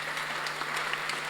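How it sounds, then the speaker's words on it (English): Brief, steady applause from a panel audience at a fabrication event, a continuous wash of clapping with a faint low hum underneath. "Just a round of applause for those."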